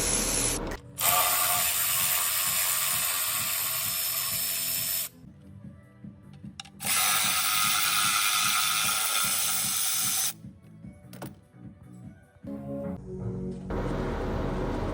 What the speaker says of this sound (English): First, open the cover bolts,